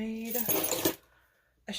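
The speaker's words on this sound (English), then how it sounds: "Let me take my keys off of it." Keys are unclipped from a phone holder strap, giving a short, bright metallic jingle up close. A voice talks around it.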